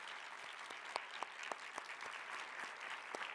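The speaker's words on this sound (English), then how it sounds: "Let's have a final round of applause for the incredible educators, colleagues, and friends recognized this evening." A crowd at the ACTFL 2022 awards ceremony gives a final round of applause for honored educators: steady, dense clapping with a few sharper individual claps, sustained and fairly soft throughout.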